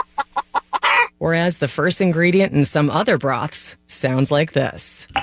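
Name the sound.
chicken clucking in a Swanson broth ad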